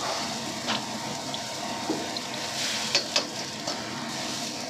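Water poured into a pan for glass noodles with shrimp, a steady soft running wash with a few faint clinks, fairly close, no talking.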